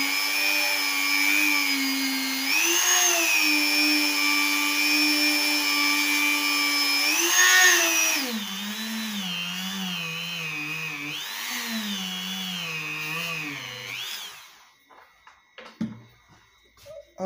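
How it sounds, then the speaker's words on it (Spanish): A mini rotary tool whines steadily while polishing the finish of a BC Rich Warlock bass guitar with polishing paste, its pitch dipping and rising under load for about fourteen seconds before cutting off, loud and close with no speech. "con el mini torno vamos a pulir"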